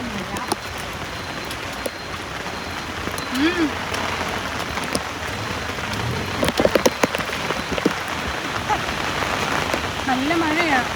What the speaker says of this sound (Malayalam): നല്ല മഴയാ.